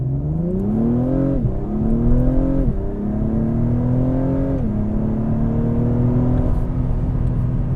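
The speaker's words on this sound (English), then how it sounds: "The gear shifts are so quick and smooth." A 2022 Acura TLX Type S accelerates hard, its engine note climbing in pitch and then dropping sharply at several quick, smooth shifts of the 10-speed automatic, heard from the cabin as a steady loud rising whine with no speech.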